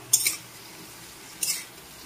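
Raw mango and fish curry with mustard paste being stirred in a pan, heard as two short, bright scraping clinks of a utensil against metal, separated by about a second of quiet.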